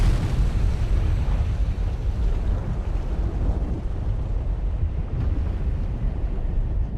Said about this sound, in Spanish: El volcán expulsa continuamente bloques de lava y ceniza.